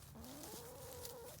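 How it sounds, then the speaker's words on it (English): A hen kept as a pet clucks in a short, rising-and-falling call heard up close, set against a steady background hiss outdoors. "Right there, I just had my chicken."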